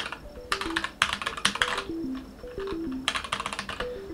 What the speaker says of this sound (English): See, these are the things that you look for in a mechanical keyboard. The sound and the feel of the switch.